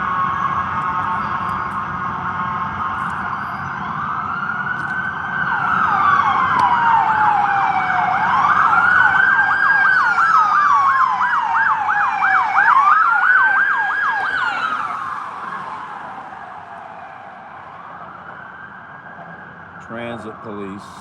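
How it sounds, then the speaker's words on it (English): A transit police vehicle races past with its siren wailing, the rising and falling sweeps growing loud as it nears and then fading away over the rumble of downtown traffic, with voices talking at times. "Where's the siren at?"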